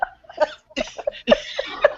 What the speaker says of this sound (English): Y'all can hear me coughing?